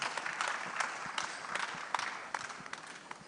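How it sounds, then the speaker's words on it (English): An audience at the WISTA Africa regional conference claps for a speaker, a fairly faint, even patter of applause from a distant crowd that tapers off toward the end. "Please a round of applause for her."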